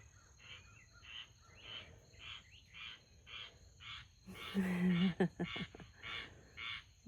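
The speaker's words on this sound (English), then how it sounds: "Little frogs." Small frogs croak in a steady, evenly spaced series of short calls outdoors, with insects chirring underneath and a brief louder rustling burst midway.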